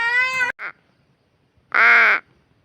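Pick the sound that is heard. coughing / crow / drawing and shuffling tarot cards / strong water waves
crow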